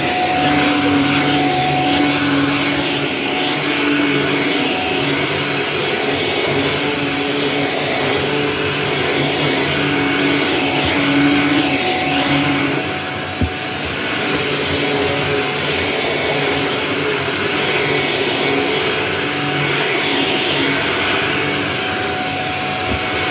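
A vacuum cleaner runs steadily over a freshly washed bed cover in a Hong Kong home, a continuous loud drone holding level throughout with a brief dip partway through.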